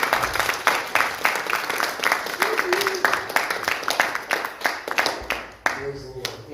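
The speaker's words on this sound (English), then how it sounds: "would you give her a hand clap of praise?" A crowd claps steadily with sharp, rapid hand claps filling the space, loud and sustained, with voices mixed in near the end, during a church service.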